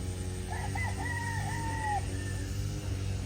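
A rooster crows once at a farm where young stags are kept tethered, a clear, fairly close cock-a-doodle-doo over a steady low rumble of background noise.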